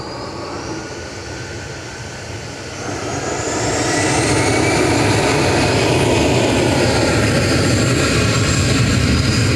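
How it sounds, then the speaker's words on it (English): A 24-year-old KLM Boeing 737-800 arriving from Amsterdam touches down at Manchester Airport, its engine roar swelling from a moderate hum to a loud, sustained rushing drone. "KLM touching down from Amsterdam with flight 1029, PHBXG, a 737-800, 24-year-old aircraft that"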